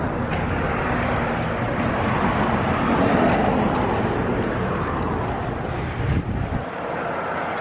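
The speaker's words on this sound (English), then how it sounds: "Too much wind on the light bar" Wind buffeting a roof-mounted light bar on a car pulled over near Anchorage, Alaska, a loud, steady roaring rush that stays constant throughout and cuts off abruptly near the end.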